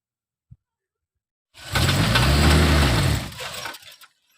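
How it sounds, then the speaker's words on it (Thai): A soil-hauling dump truck's engine comes in after a brief click, a loud, rough diesel rumble running about two seconds with an uneven, faltering throb before it cuts off abruptly. "มาแล้วครับรถขนดินมาแล้ว เหมือนเครื่องยนต์จะสะดุด"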